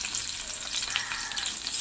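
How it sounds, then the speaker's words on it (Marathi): Fish fried in a pan sizzles and spits steadily, a bright crackling hiss with small pops, close and continuous with no talking. "छान आता मी असं फ्राय करून घेते"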